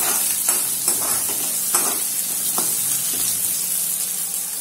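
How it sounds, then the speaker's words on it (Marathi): Ginger and garlic fry in hot oil in a pan, giving a soft, steady sizzle with a few brief stirring scrapes and clicks. "तेलामध्ये आलं लसूण व्यवस्थित शिजवून घेऊया।"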